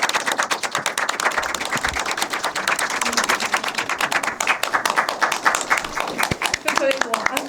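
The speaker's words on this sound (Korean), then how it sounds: "들어오시면 큰 박수 부탁드리겠습니다" An audience at a film screening talk event bursts into loud, fast clapping as guests walk in, the dense patter of many hands running throughout with brief voices mixed in.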